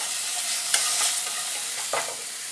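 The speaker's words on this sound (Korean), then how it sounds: "여기에 약간의 양파와 살뺀 뼈를 넣어서 살짝 볶겠습니다." Onion and deboned fish bones sautéing in a pan over low heat, a loud, dense, close sizzle with a couple of quick stirring scrapes.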